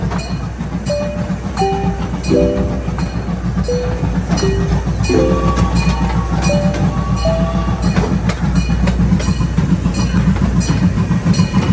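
Tourist train ride with a steam engine, steady loud rumble and clatter of railcars rolling continuously, with faint squeaks and clanks throughout.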